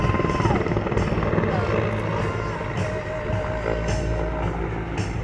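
A Mil Mi-24 military attack helicopter with a three-person crew gives a steady, loud rotor and turbine roar that holds throughout, with a voice speaking over it.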